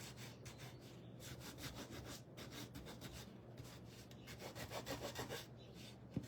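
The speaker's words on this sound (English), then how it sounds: "I'm gonna grab my sander here. So we're gonna sand just a little." Power sander working over small wooden bee craft pieces, a close continuous rough rubbing and rasping with rhythmic strokes, fairly faint and steady throughout, no talking.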